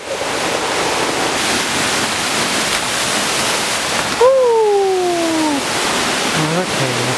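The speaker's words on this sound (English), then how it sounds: "There's the waterfall." Steady roar of a waterfall reached down steep stairs on a rocky trail, a broad constant rush filling the whole clip, with a brief voiced exclamation over it near the end.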